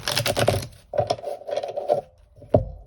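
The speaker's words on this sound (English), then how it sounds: "All right, one last shuffle here." Tarot card deck being shuffled by hand, with quick papery riffles and soft slaps in short bursts separated by brief pauses, close and fairly loud, ending on one sharp tap.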